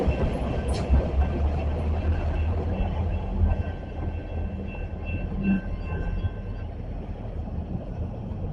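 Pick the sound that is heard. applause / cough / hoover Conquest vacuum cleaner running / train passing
train passing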